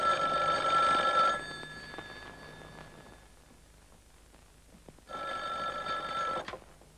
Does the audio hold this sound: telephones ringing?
yes